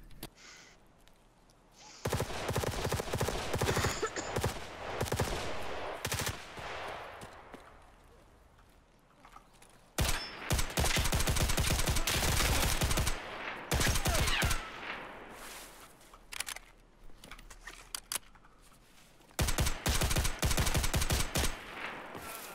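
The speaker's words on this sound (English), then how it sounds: "Gunshots are the easiest telltale sign to tell where somebody is because they are so loud" Bursts of rapid gunfire from the game Escape From Tarkov crackle loudly in long volleys, like automatic weapons, separated by quieter stretches with scattered single shots.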